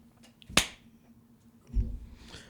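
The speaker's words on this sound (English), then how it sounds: "Give me a clap." A single sharp hand clap rings out in a quiet room as a podcast recording begins, followed a moment later by a softer low thump and faint rustle.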